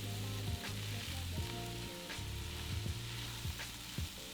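Spinach and tofu scramble sizzles gently in a pan while a utensil stirs and scrapes the bottom in a slow rhythm, quiet and close with a low hum beneath and no talking.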